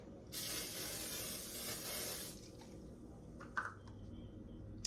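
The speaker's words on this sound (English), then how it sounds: "I'm gonna spray it with some nonstick spray." Nonstick cooking spray hisses steadily onto a baking sheet for about two seconds, close and fairly loud, then stops, leaving a few faint clicks and light handling noises.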